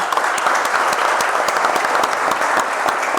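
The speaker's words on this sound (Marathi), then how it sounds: "सुमितसाठी एकदा टाळ्या वाजवायला पाहिजे" A hall audience at a student Java project competition claps steadily and loudly for Sumit, a dense, even patter of many hands with no voices.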